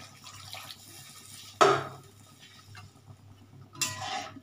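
Water goes into a cooking pot of potato and soya chunk curry. A short splashing pour comes first, a second brief pour follows, and faint stirring and clinks come from the pot in between.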